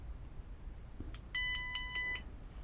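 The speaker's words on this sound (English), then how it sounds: "You'll hear it beep." A portable LiPo battery charger gives a short run of high, clear electronic beeps as charging begins, close by and over quiet background hiss.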